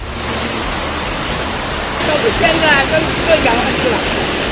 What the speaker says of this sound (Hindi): गलियों में तेज रफ्तार से पानी दौड़ रहा है।